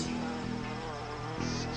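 Solitary bees buzz close by in a garden, a steady low drone that wavers in pitch over a couple of seconds with no voices.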